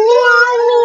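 A voice imitates a cat, holding a single loud, steady, tonal meow close to the microphone for just under a second.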